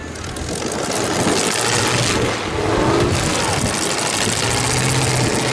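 At a pro stock truck demolition derby, a battered truck's engine sputters and labors to fire, a rough, loud mechanical roar sustained under crowd and arena noise without clear talk.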